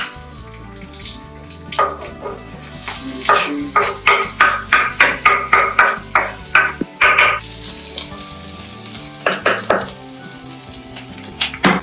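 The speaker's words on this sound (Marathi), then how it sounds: "जास्त टाकले जिरे. टाकलं मोहरी." Cumin and mustard seeds frying in hot oil for homemade poha, a loud close spattering crackle that breaks into a rapid run of sharp popping bursts, then settles into a lighter sizzle.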